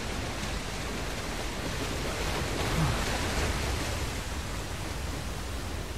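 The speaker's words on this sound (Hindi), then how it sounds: "ये एक सेकंड, पानी की आवाज है ये तो." Steady rushing water in the video game Uncharted: The Lost Legacy, a dense, even wash of noise that holds at a constant level with no other sounds on top.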